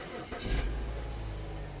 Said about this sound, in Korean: 6기통 차량이라 디젤과는 전혀 다른 엔진음을 보여지고 있고